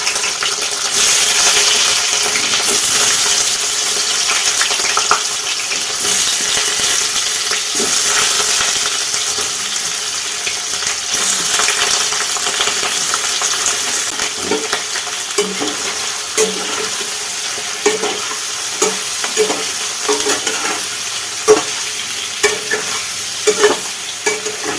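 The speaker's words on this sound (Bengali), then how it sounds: "পনিরগুলো এইভাবে উল্টে পাল্টে ভালো করে ভেজে নিতে হবে।" Large paneer cubes fry in hot mustard oil in a kadai, giving a continuous close sizzle. The sizzle runs throughout, broken by scraping stirs and clinks as the pieces are turned.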